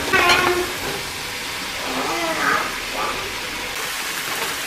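Chopped fish frying in a pan with already sautéed garlic and onion, giving a steady broadband sizzle that runs throughout while a voice talks over it.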